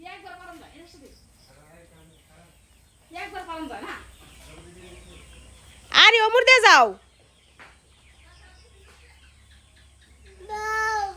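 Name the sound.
chicken clucking and running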